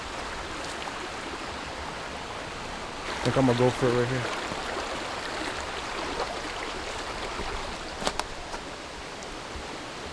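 Creek water in a mountain canyon, a steady broadband rush of flowing water running throughout, close and moderately loud, with someone speaking briefly over it.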